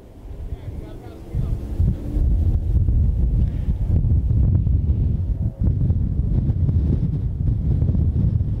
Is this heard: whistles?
no